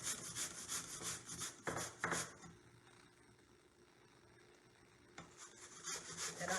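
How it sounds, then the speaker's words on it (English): An apple is shredded on a grater into a bowl, giving rhythmic rasping strokes close up, then a quieter pause before the scraping resumes. "I'm going to shred this apple into my bowl"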